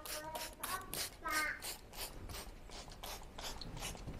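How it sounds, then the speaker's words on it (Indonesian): Bed bug spray is pumped from a hand trigger sprayer onto a sofa in a quick run of short hissing squirts with mechanical clicks, close up and fairly faint. "kita semprot semuanya saja"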